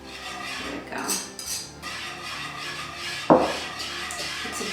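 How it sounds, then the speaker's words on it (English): A whisk scraping and clinking against a metal bowl or pot while lemon juice, zest and butter are mixed for lemon curd; irregular, fairly faint rubbing strokes with one sharper clank near the end, no talking. "Now you just want to add your lemon juice together with the lemon zest. Whisk it all together."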